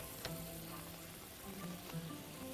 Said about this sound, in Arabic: واقوم حطاها تاخد التشويحة الحلوة، شوية الثوم